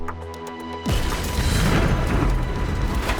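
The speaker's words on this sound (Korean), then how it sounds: "폭발이 일어났습니다." Loud explosion sound effect in a Korean TV crime reenactment about a bombing, opening with a sudden blast after a short tonal lead-in, then a sustained roaring, crackling rumble of debris that fills the rest of the clip.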